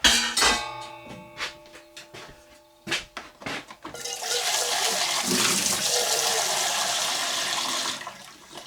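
Water runs from a tap into a small pan to be boiled, a steady rushing stream close by that follows some brief clattering and knocks and lasts about four seconds before it stops.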